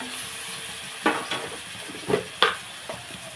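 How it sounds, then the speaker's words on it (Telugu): Ginger garlic paste sizzles in a pan with softening onions for a cashew coriander chicken curry, a steady close frying hiss broken by several sharp stirring scrapes. "ఒకసారి ఉల్లిపాయ మగ్గుతుంది కదా ఇందులో అల్లం వెల్లుల్లి పేస్ట్ వేసుకుందాం"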